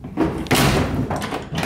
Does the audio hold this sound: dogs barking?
no